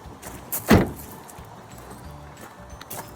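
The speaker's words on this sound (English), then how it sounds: "I'm going to close the bonnet." A Land Rover Freelander 2 bonnet slams shut once with a single loud, close thud, followed by quieter rustling and faint knocks.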